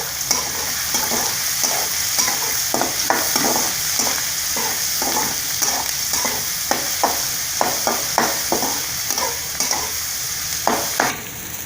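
Onions fry in a pan for idli upma: a steady sizzle runs under repeated rhythmic scraping strokes of a spoon stirring, close and fairly loud, with no voices.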